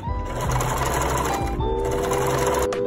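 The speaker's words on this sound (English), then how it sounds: "Sew at 1/4 inch." A sewing machine stitches a quarter-inch seam in lightweight fabric, running in a loud, fast, even mechanical chatter. A brief pause near the end is followed by a short final burst.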